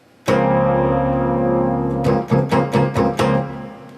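A sustained neo soul keyboard chord, with the sixth replacing the fifth, rings out alone, then is struck again several times in a quick rhythmic pattern, clean and fairly loud.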